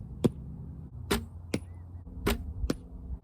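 Arrows thud into an archery target, five sharp, close impacts spaced irregularly over a few seconds, with no voices.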